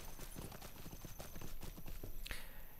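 Horse hooves clip-clop at a steady, quick riding rhythm in the Lord of the Rings Online video game, heading into the Misty Mountains toward Gloin's camp; the hoofbeats are fairly faint and continuous.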